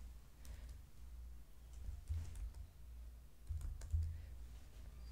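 Keys on a computer keyboard tapped while a name is typed into an online profile form, quiet and irregular clicks at close range over faint room hum, with no talking.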